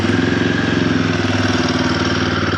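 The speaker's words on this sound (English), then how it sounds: "But then to start the bike, you rock the switch this way" A Royal Enfield Guerrilla 450 motorcycle with stock exhaust idles steadily and loudly up close, with a regular low throbbing pulse throughout.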